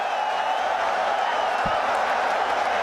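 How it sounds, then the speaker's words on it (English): A stadium crowd at a Pakistan versus Australia cricket match in Lahore roars steadily for a batsman's fifty, a dense, continuous wash of cheering from a distance with no distinct claps standing out. "Babar Azam gets the 50 to a loud cheer of the fans"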